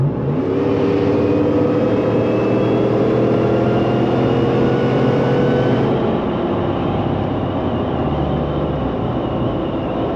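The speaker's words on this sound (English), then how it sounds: "Let's see if we can get a shot of acceleration inside of the vehicle." Supercharged Roush F-150 with Valvetronic Designs mufflers, valves closed, pulling hard from inside the cab: a loud, steady engine drone with a rising supercharger whine that eases off partway through.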